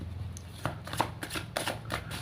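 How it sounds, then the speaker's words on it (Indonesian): Tarot cards being shuffled by hand, a steady run of crisp riffling flutters and soft slaps repeating close to the mic, with no talk. "Langsung saja saya shuffle kartunya."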